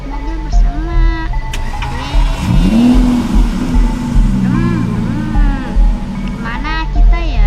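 A car in a video game revs and accelerates, engine pitch sweeping up and down in repeated surges over several seconds, with speech and other game sounds intermittently layered on top.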